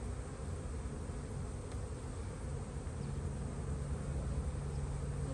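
Honeybees hum steadily around an open hive during a spring inspection, a dense continuous buzz of many insects close by with no voices.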